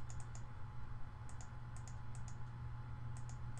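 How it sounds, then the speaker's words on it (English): Faint, sparse clicks spaced irregularly over a steady low hum, like a computer mouse being clicked a handful of times in a quiet room. "You can hear the mouse click."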